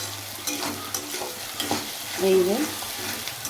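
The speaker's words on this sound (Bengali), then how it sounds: "পেঁয়াজ ভাজা হচ্ছে।" Onions frying in oil in a wok, a steady close sizzle with scraping stirring strokes that swell briefly near the middle, while a voice speaks a few short words.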